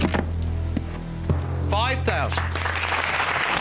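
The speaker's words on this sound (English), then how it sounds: "We applaud." Studio audience applause on a game show set, with a steady electronic hum throughout, a spoken figure near the start and a host talking briefly over the clapping.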